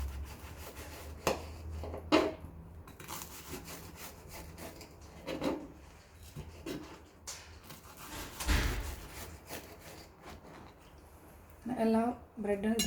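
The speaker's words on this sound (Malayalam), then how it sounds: "ഇനി നമുക്ക് അടുത്ത ബ്രെഡും ഇതുപോലെ കട്ട് ചെയ്തെടുക്കാം. നല്ല ക്രിസ്പി ആയിട്ടുണ്ട്." A knife cuts through crispy garlic bread fingers, giving faint scraping, crackling strokes, with a few louder crunches, under a quiet room background.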